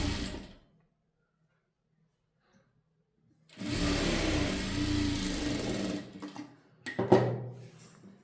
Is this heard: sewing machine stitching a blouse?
yes